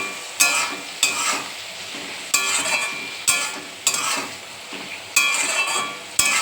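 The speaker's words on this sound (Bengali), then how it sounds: "এবার একটু ভালো করে নাড়িয়ে" Spices with turmeric stirred in a hot frying pan: a steady sizzle broken by about ten crisp, regular scrapes of a spoon against the pan, close and fairly loud, with no talking.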